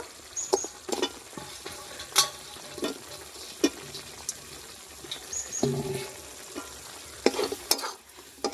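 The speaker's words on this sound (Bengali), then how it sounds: "এবার ভেজে রাখা পনির গুলো দিয়ে দেব" Fried paneer cubes tumble into a hot kadai for a vegetarian paneer posto, sizzling softly as a spatula stirs and scrapes with intermittent clinks, close by with no talk.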